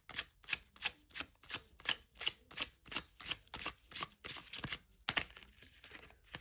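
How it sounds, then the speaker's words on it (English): Small tarot cards being shuffled up close, a steady run of quick papery riffles and soft flicks, fairly quiet. "these are smaller, so they're a little bit harder to shuffle"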